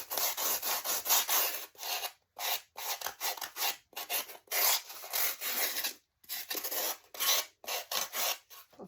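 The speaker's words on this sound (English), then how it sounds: "I'm going to get my sander again" Sandpaper rasps against a craft project being prepared for a clay covering, in close, loud bursts of scraping strokes separated by brief pauses. There is no talking.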